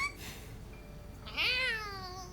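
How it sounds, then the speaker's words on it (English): Sprigatito, a small grass-type Pokémon cat, gives a single clear meow partway through, rising then trailing off, heard alone over a faint background bed. "No, it's a cat. He meows."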